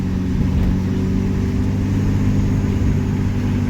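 A Cummins diesel truck engine runs at a steady, rumbling idle-to-light-rev drone, close and continuous for the full length with no pauses and no talking.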